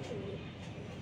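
A large racing pigeon hen of the Ludo bloodline gives a single short, soft coo over faint background murmur.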